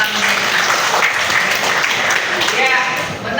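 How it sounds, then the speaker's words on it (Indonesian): Students in a school classroom clap hands together in a dense, steady burst of applause lasting a few seconds, with voices mixed in underneath. "Oke, tepuk tangan."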